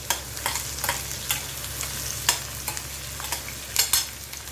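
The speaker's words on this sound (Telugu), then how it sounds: "వెల్లుల్లి, ఎండుమిర్చి, ఒకసారి కలుపుకుందాం." Garlic and dried red chilies fry in a pan as a spoon stirs in repeated sharp scrapes over a constant low sizzle, no one speaking.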